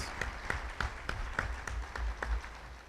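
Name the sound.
audience applause after a lawyer's talk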